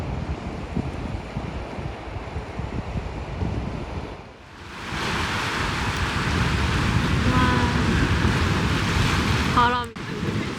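Strong wind buffets the microphone on the Jeju seaside coast, a dense continuous roar over breaking surf that swells after a brief lull, with a brief voice near the end.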